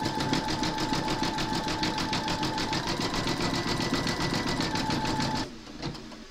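A Brother embroidery machine stitches a large whimsical Santa design with a fast, even needle rhythm and a steady motor whine, close and loud, then slows and stops near the end.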